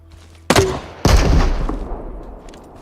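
Two sharp gunshot bursts from bots in the Deadside survival shooter, loud and close, each one trailing into a reverberant decay.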